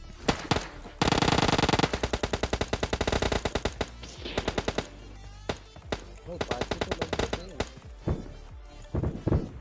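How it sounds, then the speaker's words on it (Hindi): Gunfire in the PUBG Mobile Lite video game: a long burst of rapid automatic fire, then scattered shots and shorter volleys, loud and close, with some talking mixed in. "ये फायरिंग की आवाज सुनकर फिर दिमाग खराब हो जाता है"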